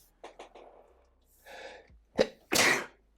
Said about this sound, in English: that's what my sneeze sounds like